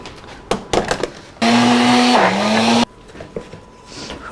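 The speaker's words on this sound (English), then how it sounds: "So we're gonna blend this up and then stick it into the oven." A blender whirs loudly for about a second and a half on cilantro, jalapeno and salt, its motor pitch dipping briefly midway, bracketed by close clattering and handling noises before and after.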